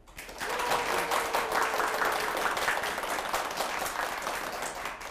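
Audience applause at a Korean lecture show, a dense steady round of clapping that swells quickly and holds for several seconds before easing slightly, fairly distant in a hall.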